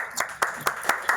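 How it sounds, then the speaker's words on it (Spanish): A studio audience gives a short burst of applause that sounds sparse, a handful of sharp, evenly spaced claps, close and fairly loud. "quiero que ustedes mismos den su fuerte aplauso"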